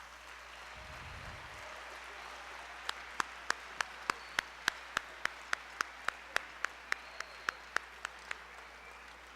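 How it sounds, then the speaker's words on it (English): Scattered, sharp claps ring out over a steady hiss, a sparse round of applause from a small group rather than a full ovation, at a junior high band holiday concert. "I'd like to give them one more round of applause"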